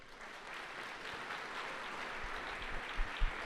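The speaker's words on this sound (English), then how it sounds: "Give them a really, really big applause." An audience at the Guldbrikken Awards 2013 ceremony applauds steadily in a dense, sustained clatter of clapping that fills the room, with a few louder thumps toward the end.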